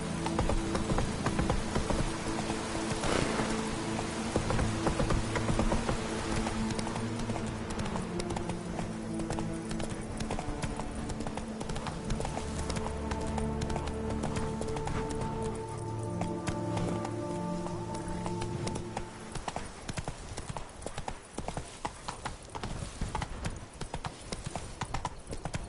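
Horse hooves clip-clopping in a rapid galloping rhythm inside The Witcher 3's Gwent-themed game world, steady and close for most of the stretch over tonal game music, thinning out toward the end.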